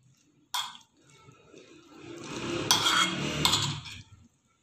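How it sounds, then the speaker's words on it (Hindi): Sandwich filling ingredients being mixed in a bowl with a spoon, a sharp clink followed by wet scraping and stirring that builds, then stops. "अब हम इसे मिक्स करेंगे"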